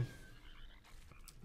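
Frog croaking effect from the Rain of Frogs card in a tournament card game, a short burst of faint, close croaks and chirps heard alone without speech.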